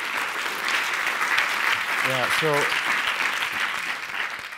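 Broadband audience applause at a festival talk session, steady throughout, with a brief spoken interjection and a short voiced sound over the clapping midway.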